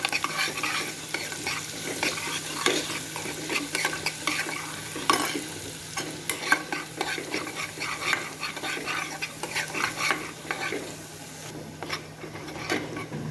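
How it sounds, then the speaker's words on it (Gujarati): Fennel seeds and garlic sautéing in butter in a bowl, with a steady crackling sizzle, frequent spoon scrapes and stirring clinks against the vessel, close and continuous throughout with no talking. "હવે આપણે એક બાઉલમાં થોડું બટર લઈશું, તેમાં વરિયાળી એડ કરીશું અને લસણ એડ કરીશું અને એને બરાબર સાંતળી લઈશું"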